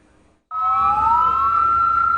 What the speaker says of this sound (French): Les sirènes alertent la population afin qu'elle reste chez elle